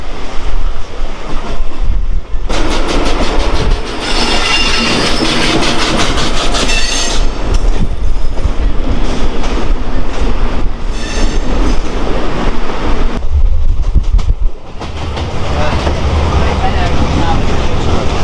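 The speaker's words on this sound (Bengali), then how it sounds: "ট্রেন যাচ্ছে, আমার ডান দিকে ট্রেন আসছে, উল্টো দিকে একটা এক্সপ্রেস ট্রেন ছেড়ে বেরিয়ে যাচ্ছে।" Loud rumble and rattling clatter from inside a moving passenger train between Howrah and Mayapur, as an express train passes in the opposite direction. A brief drop and a sharp swell mark the passing, with faint squeals over the roar.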